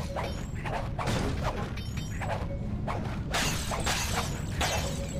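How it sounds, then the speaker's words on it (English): Priceless artifacts smashed in a video game: repeated crashes and shattering bursts with mechanical clatter, loud and dense throughout with no talk. "All these priceless artifacts I'm coming in and smashing."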